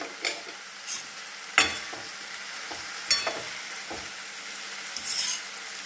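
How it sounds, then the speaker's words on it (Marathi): Radish and potato with chopped tomato and salt sauté in a pan, a steady low sizzle broken by occasional sharp scrapes and taps of a spoon against the pan. "थोडे मीठ टाकून परतून घेऊ।"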